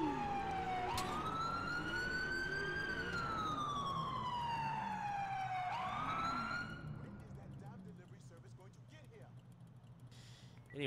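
Police car siren from GTA IV, a modded RCMP Crown Victoria Police Interceptor, wailing up and down over a low engine drone, then cutting off as the engine rumble continues more quietly.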